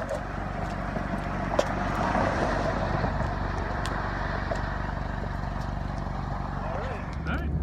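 Steady drone of a 2016 Mazda MX-5 Miata engine heard from inside the car on a first drive, a constant cruising hum with road noise and faint ticks throughout.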